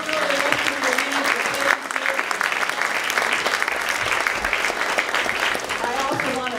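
An audience applauds honorees at a ceremony celebrating inspiring women: full, continuous clapping from a sizable crowd, loud and steady, with a voice speaking over it for part of the time.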